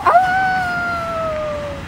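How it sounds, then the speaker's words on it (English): A wolf in a Scooby-Doo cartoon lets out one loud, clear, drawn-out howl that holds a tone and slowly sinks in pitch for about two seconds, heard alone with no talk. "Wolf! Wolf! Wolf!"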